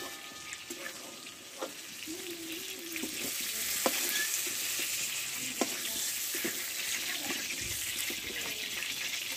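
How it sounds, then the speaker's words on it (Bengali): Pointed gourd fries in oil in a pan with a steady, close hissing sizzle. Occasional stirring knocks and scrapes sound over it, with no talking. "আমি ধীরে ধীরে পটলটা ভালোভাবে কষে নিয়েছি"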